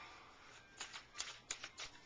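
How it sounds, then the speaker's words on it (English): A Spiral Tarot deck is shuffled by hand in a quiet room, giving a few soft, faint riffling bursts in quick succession with no talking. "So let's get to shuffle the cards"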